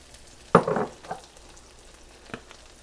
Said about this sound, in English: Then I'm going to add my chopped zucchini